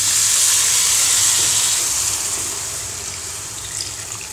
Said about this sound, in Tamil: இப்போ குழம்புக்கு தண்ணி ஊற்றிடலாம்.